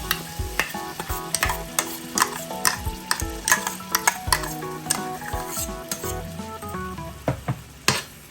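Blended green chili and tamarind paste for jalapeno chutney sizzles in a hot pan while a spoon scrapes and stirs it in repeated rhythmic strokes, with clinks of utensil against metal over a steady frying hiss.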